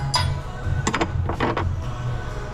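A rivet removal tool clamped onto a rivet on a Porsche Taycan cuts through it, giving a few short mechanical clicks and crunches over a steady low hum, close by, with no talking.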